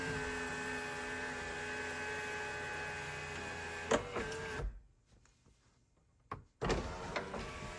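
The electric sunroof motor of a 4th gen 4Runner hums steadily while the panel closes, with a few clicks. It goes quiet briefly, clunks, then hums again close up.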